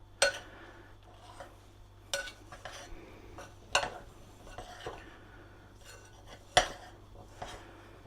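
Dough with a clay-like consistency is being mixed with milk in a bowl, giving soft scraping plus several sharp clinks of a utensil against the bowl at irregular intervals, close and fairly quiet.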